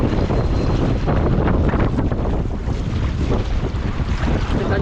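Strong wind buffets the microphone aboard a small fishing boat at sea, a loud continuous roar mixed with sloshing water and waves.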